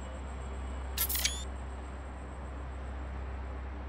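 A single camera shutter clicks in No Man's Sky, one brief crisp snap with a short mechanical tail against a quiet steady hum.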